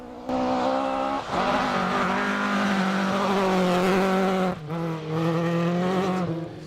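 Two-wheel drive Ford Escort rally car on a forest stage of a rally round, engine screaming at high revs with brief lifts between gear changes, loud and close, with tyres scrabbling on the surface.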